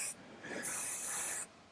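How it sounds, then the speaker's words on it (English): Kerasilk Fixing Effect hair spray being sprayed onto hair gives two hissing bursts: a very short puff, then a longer, steady spray lasting under a second, close and clear. "give this a little bit more spray with our Fixing Effect spray"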